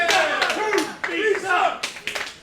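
Wrestling crowd at a CAP TV quarterfinals show claps in support of a tweener wrestler, a dense near wash of applause with sharp bursts, while a commentator talks over it.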